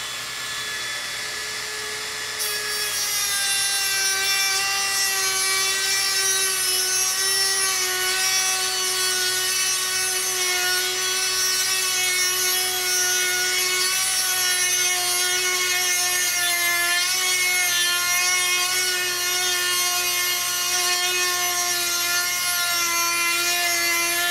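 A cutting disc slices through a bolt with a loud, steady high-pitched whine that holds unbroken for over twenty seconds after a brief quieter start.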